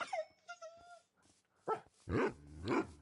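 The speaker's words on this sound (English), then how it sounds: "when you hear them whimpering like that too, it's an indicator that they're getting really low of health" Tamed dogs in a Minecraft hardcore survival game whimpering at low health: thin high whines first, then several louder yelping bursts, close and clear, with no speech over them.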